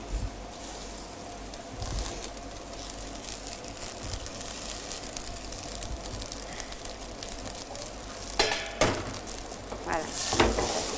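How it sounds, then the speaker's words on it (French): Lamb colombo sizzles and crackles in a pan as it is flambéed with Saint-Jean rum, a steady soft frying hiss with a few louder utensil clatters near the end and faint talk in the background. "Maintenant, je vais flamber au rhum avec le rhum Saint-Jean."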